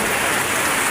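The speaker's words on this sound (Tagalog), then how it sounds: "Ayan guys, super lakas ng ulan." Heavy rain pours steadily onto a flooded street during a typhoon, a dense, continuous hiss of close, loud rainfall with no pauses.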